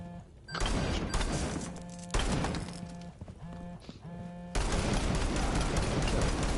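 Automatic gunfire from the video game Rainbow Six Siege, loud and close, with several sustained bursts of rapid shots and a long unbroken burst to finish.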